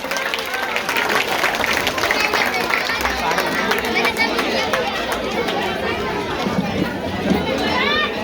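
Dense clapping and crowd chatter rise from an audience at a children's dance program during an Ambedkar Jayanti event in Jahangir Puri, a continuous loud applause wash mixed with voices and movement.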